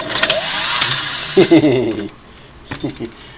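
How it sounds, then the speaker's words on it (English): A Singer Model 404 sewing machine with a dull needle strains against two layers of fabric, its motor whining for about two seconds while the clutch slips, then dropping to faint sporadic knocks. "my clutch is releasing because it can't punch through, and it doesn't want to damage the machine, so the clutch starts slipping there"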